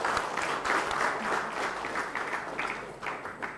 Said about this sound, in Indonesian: Tepuk tangan untuk teman-teman media.